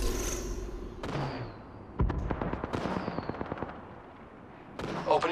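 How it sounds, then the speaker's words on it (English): Gunfire in the battle royale game Apex Legends, with bursts of rapid shots at moderate distance, sharp cracks mixed into a busy combat soundscape, and a few heavier blasts scattered through the fight. "They're shooting at me."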